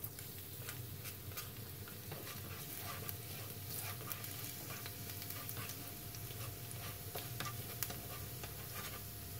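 Garlic sizzles softly in hot oil in a pan, a steady faint crackle with scattered small pops and no talking.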